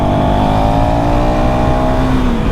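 A single-cylinder 2024 KTM Duke 390 motorcycle pulls hard to overtake, its engine note loud and close and rising briefly before the pitch drops as it shifts, all under heavy wind rush.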